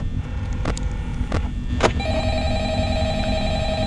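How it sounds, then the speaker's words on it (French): A telephone rings inside the Five Nights at Freddy's video game, with a few short bell bursts followed by a steady electronic ring tone held over a constant low background rumble. "on va attendre le téléphone"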